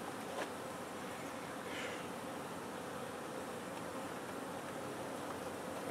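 Honeybees buzz steadily at an open hive during spring beekeeping work, a dense continuous hum filling the whole stretch at even loudness with no voices.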